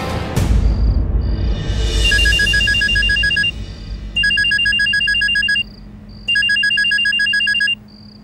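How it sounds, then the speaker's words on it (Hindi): A mobile phone rings loudly and close by in repeated electronic ringtone bursts, three distinct phrases separated by short gaps, with no talking over it. "वो पति देव का फोन आ रहा है"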